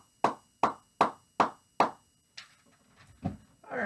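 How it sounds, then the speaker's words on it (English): A round of applause for virtual campers at an Under the Big Top awards session comes as five crisp, evenly spaced hand claps from close by, followed by a few softer, scattered claps. "Let's give you a round of applause."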